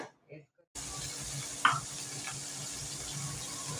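Onion paste for Punjabi palak paneer drops into a hot pan and sets off a steady sizzle with a few stirring scrapes. A short, sharp clink comes partway through, after a quiet start.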